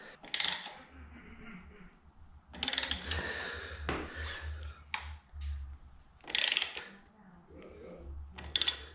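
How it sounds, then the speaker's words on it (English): A ratchet wrench clicks in quick bursts while backing out the lower shock bolt on a Sportster motorcycle, close by with metallic tool clatter between the runs of ratcheting. "what I'm also going to do is actually remove the lower bolt on the shock"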